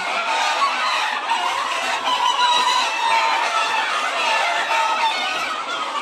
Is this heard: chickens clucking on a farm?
yes